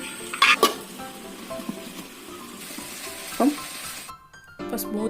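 Brinjal and drumstick curry vegetables sautéing in a pan, with a soft ongoing sizzle, a few sharp clinks of a spoon against metal, and a brief silent gap near the end.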